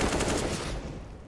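Rapid gunfire in a Counter-Strike match, a quick burst of several sharp shots in the first half second that fades into a decaying tail.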